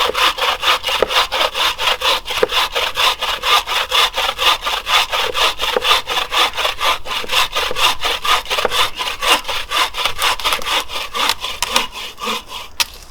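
Steady, rhythmic rasping of a frame saw cutting through wood, cutting on both push and pull strokes, fast back-and-forth repeating close up for the whole stretch, with no talking.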